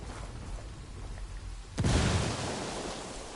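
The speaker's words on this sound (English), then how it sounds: "That explosion got their attention." A thrown frag grenade detonates in a military shooter set among hostile cartel fighters, one sudden deep boom that breaks a steady ambient hiss and then rumbles off slowly.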